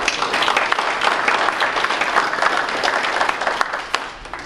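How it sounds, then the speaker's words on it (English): Dense audience applause at a community Affordable Care Act meeting, steady and sustained throughout, with a few louder individual claps standing out near the end. "Let's give them a big round of applause."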